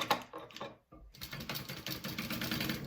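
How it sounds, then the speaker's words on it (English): A sewing machine stitches a quarter-inch seam across the top of a bag. One short burst of rapid mechanical whirring is followed by a brief pause, then a longer continuous run, close and clear, with no talking. "I'm just going to sew that up at the top at a 1/4 inch seam allowance"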